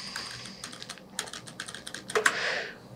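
Fingers tap out a number on a computer keyboard while entering data in an Excel spreadsheet, giving a quick, close run of crisp plastic key clicks with a slightly busier burst near the end.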